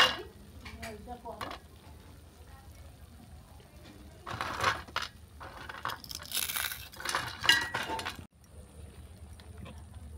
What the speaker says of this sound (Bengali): বড়িগুলোকে গুঁড়ো করে নেব।